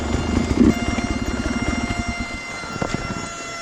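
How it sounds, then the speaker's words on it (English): Loud, close mechanical whirring from a dirt bike's cooling fan, with a rapid rhythmic chopping pulse and a whining tone, steady and running alone without speech. "my bike's fan sounds really bad now. Super loud."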